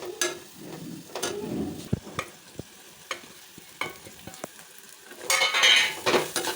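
Ingredients being stirred and fried in a pan in a home kitchen, with repeated scraping clinks of a utensil against the pan over a soft sizzle, the sizzle swelling louder near the end.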